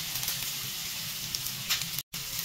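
Onion and garlic sizzling in butter and olive oil for a quick tuna pasta, a steady close-up hiss of frying with a brief dropout near the end.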